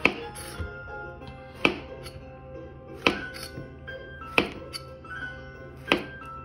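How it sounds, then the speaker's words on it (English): A chef knife makes bias cuts through a vegetable on a cutting board, five crisp chops that knock sharply at an even, unhurried pace, close and clear with quiet between strokes. "Then we're gonna do bias cuts like this. Turn it 45 degrees,"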